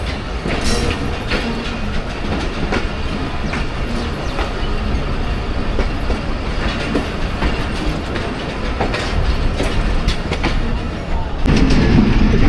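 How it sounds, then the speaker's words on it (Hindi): The Rehman Baba Express rolls through Jam ke Chattha as a loud, continuous rumble with rhythmic wheel clatter and mechanical rattling, growing even louder near the end. "जाम के चट्ठा से पास हो रही है ट्रेन"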